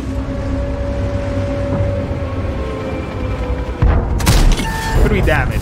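Artillery fire in the tank game World of Tanks, with a heavy boom and crashing impact arriving late over a steady rumbling engine drone, followed by a second burst of loud noise; a voice talks faintly beneath.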